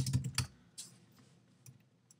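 Typing on a computer keyboard, a quick burst of keystrokes up front and then a few scattered, softer taps, close and clear with no talking.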